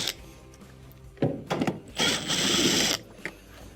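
Screws being backed out of a washing machine's control console with a Torx T20 driver: a couple of short bursts of driver whir and rattling plastic, then a longer, louder grinding run, close by with no talk.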